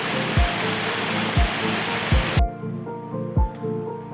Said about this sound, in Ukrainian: От і на нашому шляху водоспадик.